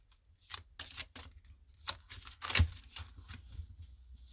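Tarot cards are shuffled and drawn in soft, close riffling and flicking bursts that are fairly quiet and irregular, with no one talking.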